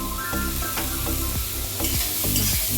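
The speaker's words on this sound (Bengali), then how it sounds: "ঘিটা গরম হয়ে গেছে, গাজরটা ঢেলে দিলাম" Grated carrots sizzle loudly in hot ghee, a bright continuous frying hiss broken by several rhythmic scraping stirs of a spoon against the pan, close up and without talk.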